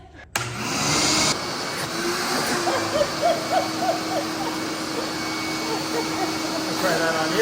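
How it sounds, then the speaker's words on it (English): A vacuum cleaner runs steadily and loud, with a constant drone while cleaning chimney soot at an off-grid homestead, and brief tonal squeaks mid-way. "So Jules is gonna vacuum it out and see what we got."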